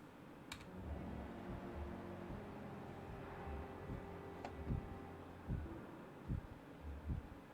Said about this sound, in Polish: Fajnie, że słychać ten bicie serca.